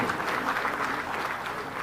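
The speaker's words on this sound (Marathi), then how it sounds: "एकदा जोरदार टाळ्या या उपमुख्यमंत्री नामदार एकनाथजी शिंदे साहेब यांच्यासाठी" A seated audience at a cooperative conference claps for Deputy Chief Minister Eknath Shinde, giving dense, even applause that carries steadily through the brief moment without a break.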